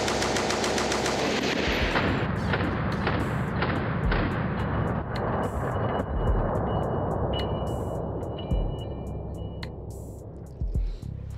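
A WW1-era machine gun fires on a range in a long, loud, continuous stream of rapid shots that gradually thins into scattered final bursts and pings, with no talking.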